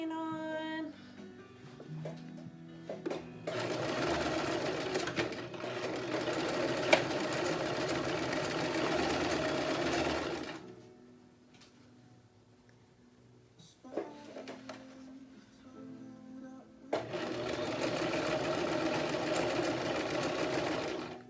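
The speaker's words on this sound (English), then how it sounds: "throw my sewing machine on" Rapid mechanical whirring of a sewing machine stitching a cotton face mask in long bursts, stopping briefly in between before starting up again, close and fairly loud.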